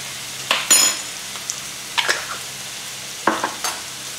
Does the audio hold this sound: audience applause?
no